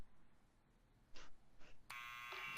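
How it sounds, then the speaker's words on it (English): A door buzzer in Back to the Future: The Game sounds as two short buzzy bursts, followed by a longer sustained harsh electronic buzz that runs to the end, fairly quiet against faint background ambience. "press this buzzer and find out"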